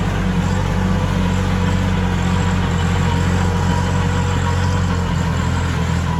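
A tractor engine runs steadily while cutting furrows in a cassava field, a loud, continuous low mechanical drone with no pauses from start to finish.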